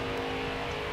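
Race truck engine from NASCAR Heat 4 at Chicagoland, holding a steady high-pitched drone in fourth gear, loud and continuous, with no voices.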